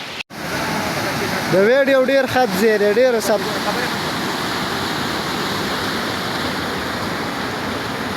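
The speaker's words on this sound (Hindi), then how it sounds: "ये पानी का आबशार और ये खुली फिजा, आए हाय क्या मज़ा देते हैं।" Waterfall pouring into a stream in Khyber Pakhtunkhwa, a steady loud rushing roar of water that continues throughout, with a brief voice heard over it early on.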